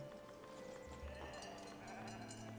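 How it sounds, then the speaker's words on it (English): Sheep bleating in the video game Foundation, a small flock of ten animals near a monastery among trees, mixed into a steady bed of game ambience and music at low level. "We have 10 sheep. They'll start pottering about there."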